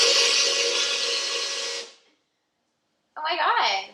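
A blender crushes ice for a frozen Aperol slushee, roaring loud and steady for about two seconds before cutting off abruptly; after a short silence a voice follows.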